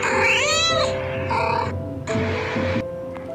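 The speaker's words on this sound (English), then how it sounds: "cat" A cat gives several drawn-out meows and yowls close by: a long wavering call, then two shorter ones, with no voices.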